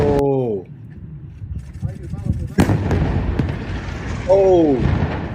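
Missiles landing and exploding in the war in Israel, heard as a sharp distant boom and a scattering of crackling blasts, with excited voices shouting and talking over them throughout.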